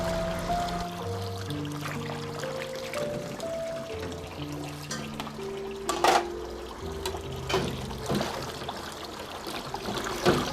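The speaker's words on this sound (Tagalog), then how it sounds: "Rachel, patapos na din pala akong maghugas." Tap water running steadily at a sink while dishes are washed, a continuous close stream with occasional clinks, alone with no talking.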